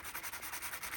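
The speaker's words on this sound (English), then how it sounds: "sand this off a little bit" A sanding block scrubs back and forth over forged metal in steady, even rhythmic strokes, close and fairly quiet, with no talk over it.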